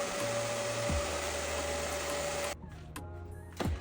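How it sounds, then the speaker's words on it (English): Blow dryer drying lace wig adhesive in a salon, a steady close whirring hum with a high whine that cuts out abruptly near the end, leaving quieter background sounds. "And then I'm going to use my blow dryer to make sure that is dry."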